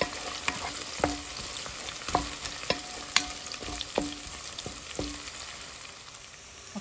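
Ginger and lemongrass stirred in a cooking pot for chicken tinola, a spoon scraping and knocking against the pot in a steady run of sharp clicks over a soft sizzle, close and fairly quiet, with no voices.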